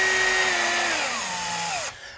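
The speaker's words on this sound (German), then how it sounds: "Hier brauchen wir die Lampe einfach nur noch festschrauben." A power screwdriver drives screws to fasten an LED ceiling lamp, one steady whine that slows and drops in pitch before cutting off, heard alone.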